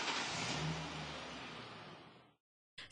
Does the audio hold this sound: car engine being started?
yes